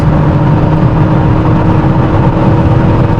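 A modified MG6 car accelerates through the gears, its mid-pitched engine droning steadily and loud throughout, with no clear break for a shift.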